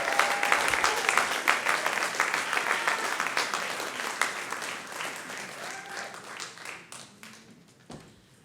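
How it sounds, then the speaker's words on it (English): Audience applause fills a university convocation hall, steady and dense clapping that gradually thins and tapers off toward the end. "if we could get a round of applause for to welcome Regina"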